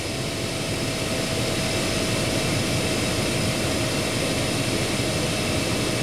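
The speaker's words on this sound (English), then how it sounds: "It's a bad blower motor." A faulty blower motor in a Honda Accord runs with a loud, steady whooshing roar and a faint constant hum underneath, unbroken from start to finish with no voices.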